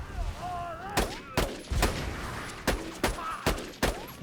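Bursts of gunfire in Borderlands 2, about eight sharp shots in an uneven rhythm, close and loud, with game effects and music between them and no talk.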